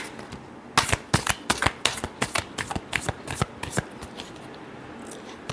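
Tarot cards being shuffled by hand, a quick run of about a dozen crisp riffling bursts in a fairly steady rhythm, close and clear with no talking.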